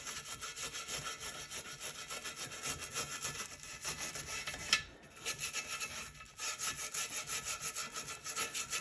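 A small hand tool scrubs and scrapes at powder coat on a wheel being stripped with aircraft paint remover, working into tight nooks with a steady rasping, close rubbing rhythm that pauses briefly twice.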